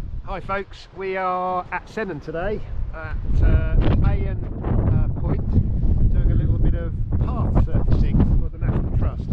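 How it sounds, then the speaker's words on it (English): Heavy wind buffets the microphone in low rumbling gusts on the Cornish Coast Path, loudest in the second half, while someone talks over it. "It's very windy, so apologies for the wind noise."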